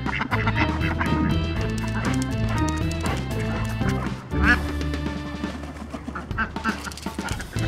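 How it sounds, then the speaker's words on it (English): Repeated loud quacking from a duck playing roughly nearby, with honks and scuffling mixed into a busy, noisy scene; people talk over it. "Duck's gonna attack me."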